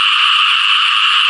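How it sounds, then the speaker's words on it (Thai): Banded bullfrog (Kaloula pulchra) croaking in the rainy season in the countryside, a loud, close, continuous droning chorus with no talking. "จบท้ายด้วยเสียงกบเป็นอ่างร้อง"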